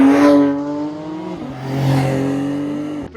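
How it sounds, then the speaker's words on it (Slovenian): A Porsche GT3 Touring sports car engine revs and pulls on a road drive, a strong smooth tone that drops between gears and rises again, close and loud with no voices. "danes vozim GT3 Touring"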